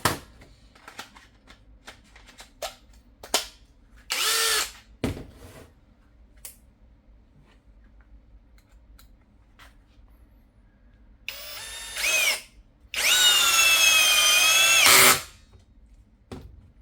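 ProCraft PA18LiBL brushless cordless drill driver, short bursts of high whirring motor running loud and close, the last burst longest, separated by quiet gaps with small clicks and handling taps.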